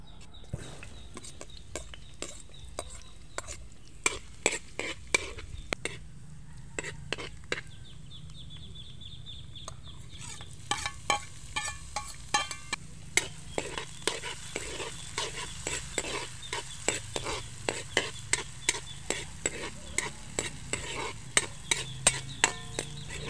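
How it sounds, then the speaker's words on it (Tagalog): Sliced garlic, onion and red pepper are sautéed in oil in a pan for a spaghetti sauce, a steady sizzle under dense, irregular scraping and clinking of a utensil stirring, close and continuous, briefly pausing midway. "Igisa ang hiniwang mga bawang,"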